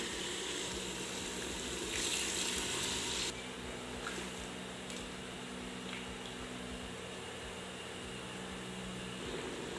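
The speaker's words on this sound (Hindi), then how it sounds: "पाँच मिनट गोश्त को अच्छे से भूनने के बाद अब हम इसमें ऐड करेंगे एक गिलास पानी" A glass of water is poured into a pan of mutton that has been frying for five minutes in a masala dum gosht preparation. A soft, steady watery rush and sizzle runs throughout, faint and continuous, with no voices.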